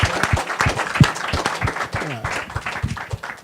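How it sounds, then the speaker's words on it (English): An audience applauds a panel at a business talk on re-entry, a dense, steady patter of many hands clapping that fills the room throughout, with faint voices mixed in. "So let's give the entire panel a round of applause."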